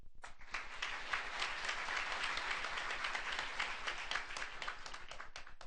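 An audience applauds at a university graduation ceremony, dense steady clapping from many hands filling a hall, sustained and even throughout without speech.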